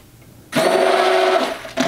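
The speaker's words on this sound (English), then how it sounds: "I love my immersion blender for this" An immersion blender whirs through coffee with butter, starting abruptly after a quiet moment, running a loud steady buzzing whine for about a second, then dropping off and briefly restarting.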